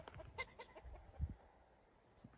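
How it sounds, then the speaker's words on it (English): A faint, low clucking from a nearby rooster comes in a few short bursts amid quiet outdoor ambience. "It's a rooster right there."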